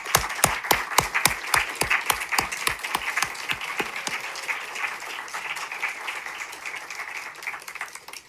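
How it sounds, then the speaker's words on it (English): Audience applauding community partner organizations at a public event on second chances: brisk, rhythmic clapping that starts sharp and even, then blurs into a fuller, fading round of applause. "we will clap for all of you together"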